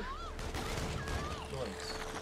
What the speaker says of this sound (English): Who's shooting me? I can't see who's shooting